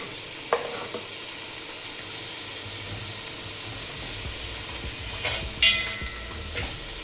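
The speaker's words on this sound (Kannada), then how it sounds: "ಇವಾಗ ಟೊಮೆಟೊ ಹಾಕೋಣ." Tomatoes frying in the oily masala for an egg biryani, a continuous close sizzle with a few sharp clinks of a spoon against the pot as it is stirred, no talking.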